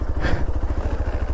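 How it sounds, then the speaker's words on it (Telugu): A motorcycle engine labors up a hill at Ananthagiri hills, a close, loud, low thumping throb pulsing in a quick steady rhythm for the whole moment, with no voices. "బైక్ ఎక్కుతుంది"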